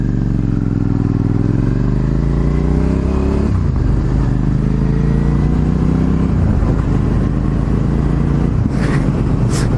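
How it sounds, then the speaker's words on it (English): A small motorbike revs as the rider twists the throttle, the engine note climbing and sliding in pitch before settling into a rough, clattering idle, loud and steady with no talk. "That kid was, like, twisting the throttle on the little bike there."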